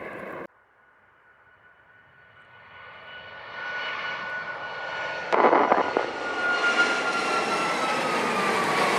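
A Boeing 737 lands at Montego Bay, Jamaica, in wet conditions, its jet engine roar swelling from a distant rumble to a loud, steady rush, with a brief burst of rattling noise midway as it touches down.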